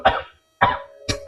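A man coughing from smoking cigarettes, three short harsh close coughs with brief gaps between them.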